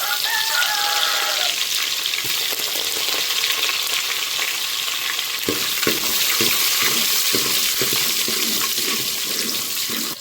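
Garlic and cumin fry in oil in a pan over low heat, giving a steady close sizzle with faint stirring taps and scrapes toward the end.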